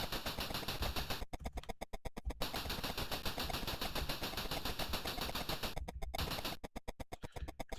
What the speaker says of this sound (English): Some of that machine gun disappeared